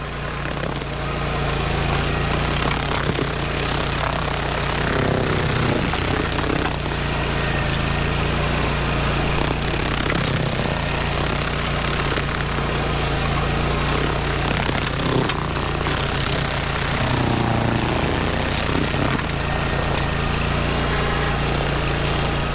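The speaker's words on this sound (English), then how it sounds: "Don't be in a hurry when you're grinding stumps. Let the blades do the work." A stump grinder chews steadily into a tree stump, its engine a loud, constant drone with brief rises in grinding intensity, heard close and alone throughout.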